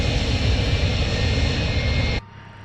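A steady jet engine whine and rumble from an MD-80 airliner taxiing and turning in a flight simulator, loud and unbroken, dropping sharply near the end.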